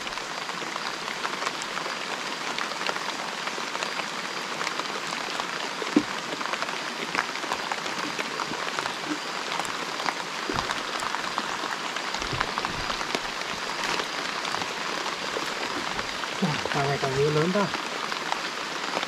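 Heavy rain pours down in a rainforest at night, a dense, even hiss that stays loud throughout, with a brief murmur of voices near the end.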